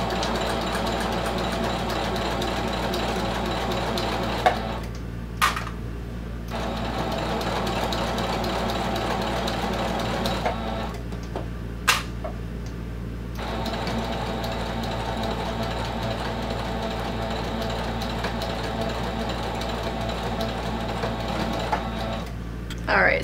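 A domestic sewing machine stitches a vinyl clutch wallet at a quarter-inch seam, running in a steady, close mechanical whir that halts briefly twice and then resumes.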